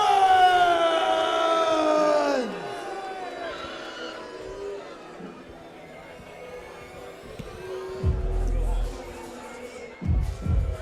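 Large arena crowd at a live combat sports event in London reacts to a fighter's entrance, a loud sustained roar with a siren-like whistle over it, then settling into a restless murmur with a couple of low bursts.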